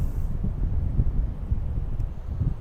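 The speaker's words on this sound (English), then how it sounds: "It's definitely more windy." Steady low rumbling wind buffeting throughout, a continuous broadband roar with gusty swells and no voices.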